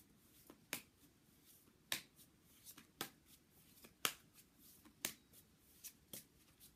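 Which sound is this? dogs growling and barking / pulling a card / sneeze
pulling a card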